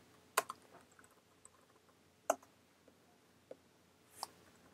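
Sparse, quiet clicks of typing on a Mac computer keyboard in a terminal, a few sharp separate keystrokes spaced irregularly with pauses between them, close by in a quiet room.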